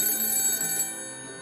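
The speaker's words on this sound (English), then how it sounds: "my cell phone, sitting on the table, started ringing." A cell phone rings on a table with a bright electronic tone, its sustained ringing pitches sounding clearly, then the upper tones drop away partway through while a softer ring carries on.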